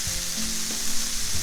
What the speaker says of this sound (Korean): 어차피 베이컨 볶는 중이었으니까.